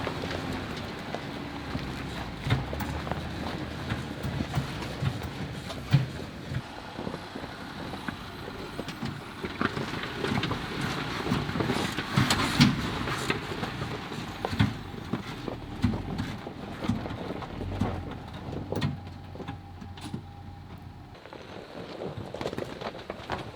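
Rattling from inside a Jeep Gladiator pickup while driving, faint irregular clicks and knocks scattered over a steady low road and cabin rumble throughout, with no talking.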